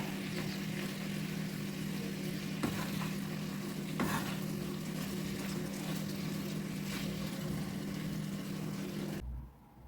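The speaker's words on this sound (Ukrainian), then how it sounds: "цибуля має посмажитися" Onion fries in a pan with a steady, faint sizzle while being stirred, occasional scrapes cutting through before the sound drops away near the end.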